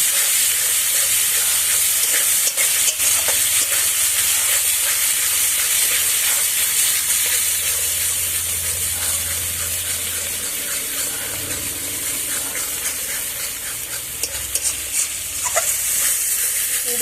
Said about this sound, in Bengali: চলো এর মধ্যে এখন টক দই দিয়ে দিই। দিয়ে আবার মশলাটা ভালো করে কষিয়ে নিই।